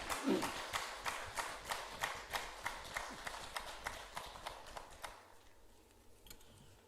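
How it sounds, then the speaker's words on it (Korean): A church congregation at a Sunday service welcomes a guest with rhythmic clapping in unison, an even pulse of roughly three claps per second that fades slightly toward the end. "우리 환영의 박수 보내주시면 감사하겠습니다"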